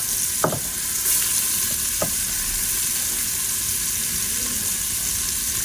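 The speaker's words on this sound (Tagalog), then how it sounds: "Haluin natin hanggang mag-golden brown." Onions sizzle steadily in hot oil in a pan, a continuous loud frying hiss with a few sharp scraping strokes of a spoon stirring them, no talk.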